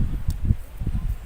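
Outdoor wind gusting straight into a microphone produces low, uneven rumbling buffets that swell and fade in quick pulses.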